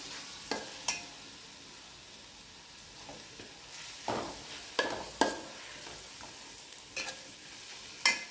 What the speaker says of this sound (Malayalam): ഈ ഉള്ളിയിലൊന്ന് മിക്സാകാൻ നല്ലവണ്ണം ഇളക്കി കൊടുക്കുക.